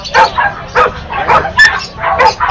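A Chihuahua barks in quick yappy bursts at a crowded puppy market, several high sharp yips close by with faint chatter and background noise.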